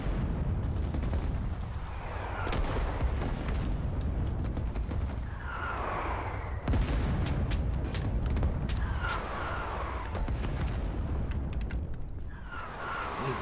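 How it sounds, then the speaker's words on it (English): Machine gun fire in the Rising Storm 2: Vietnam game comes in dense rapid bursts and cracks that repeat every few seconds over a constant loud battlefield din. "machine gunner was too busy shooting at me"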